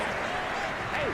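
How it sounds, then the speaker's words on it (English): A home crowd in the Madden 22 football video game roars approval of a referee's call, a brief dense wash of cheering and applause that stays loud and steady throughout. "This home crowd, they're happy with that call"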